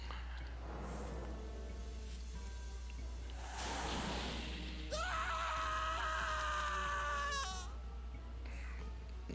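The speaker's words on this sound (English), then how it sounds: "Nice death scream" A character's strained, bleating death scream in the video game Phantom Brave rises loudly for a few seconds. Grunts and game effects come first, over a steady low hum.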